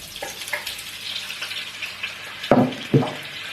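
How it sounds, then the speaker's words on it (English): Steady hiss of eggs frying in hot oil over high heat, sizzling throughout, with a couple of louder crackling bursts near the end as food hits the pan. "The minute it starts sizzling, the sound, then the oil is ready."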